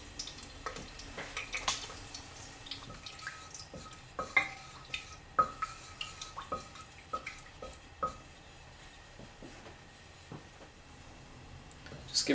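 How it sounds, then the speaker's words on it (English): Coconut cream frying and breaking down in a pan for Thai red chicken curry, a quiet sizzle with sparse spoon taps and scrapes against the pan, close up and alone. "Just giving the coconut cream there an occasional stir."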